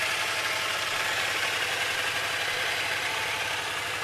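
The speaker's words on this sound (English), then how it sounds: "at that point I'll turn the engine off, just so you can hear me a little bit better" An Aprilia Mana motorcycle engine idles steadily nearby, a continuous low, even pulsing rumble with no change in pitch.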